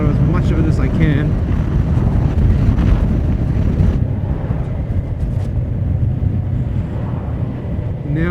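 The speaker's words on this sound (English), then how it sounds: "It is very windy" Strong wind roaring across the microphone of a Ninja 400 motorcycle while riding, a loud continuous rushing buffet with engine rumble underneath, easing slightly midway.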